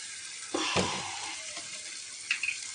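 Chilli-sauced fish in a pan bursts into a loud sizzle as water is added, then settles to a softer bubbling hiss with a few sharp spits near the end.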